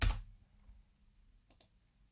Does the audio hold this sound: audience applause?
no